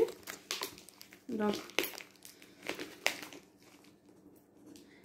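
Paper wrapping with the address label on a parcel is crumpled and torn during unboxing, giving close, repeated crinkling bursts, with a brief spoken word near the start.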